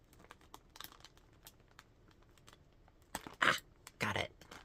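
Tape peeled off a package holding Ziploc bags, a close crinkling rustle building to two loud tearing rips near the end, with a voice talking quietly underneath.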